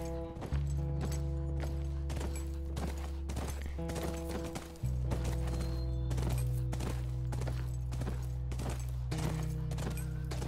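A horse's hooves clip-clop in the video game The Last of Us, a series of soft, spaced thuds beneath sustained, swelling orchestral music tones.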